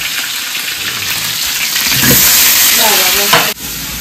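Aloo dum frying in a home kitchen pan, a steady broadband sizzle and hiss with stirring that swells midway, then cuts off abruptly near the end.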